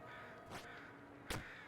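A bird in the video game Jump King caws twice, two quick harsh calls about three quarters of a second apart. They sit over a steady layer of game background sound.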